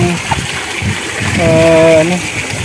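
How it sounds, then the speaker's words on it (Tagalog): Water gushes steadily from a broken gate valve on a water district pipe, spraying up like a fountain after typhoon damage; a loud continuous rushing flow with someone talking over it. "Pre, talsik na yung tubig dito. Open pipe na. Meron na pong fountain dito."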